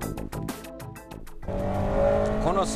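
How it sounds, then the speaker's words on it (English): A Honda Integra Type R with a 96 Spec R engine races on a slippery track, loud revving bursts between gearshifts, then a sustained high engine note with brief tire squeal near the end. "It's amazing how well this car runs on a slippery track."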